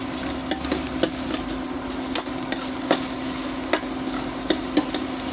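Chopped onions, salted and frying in a pan on a medium flame, give a steady sizzle, with a low hum underneath and frequent clinks and scrapes of a spoon stirring.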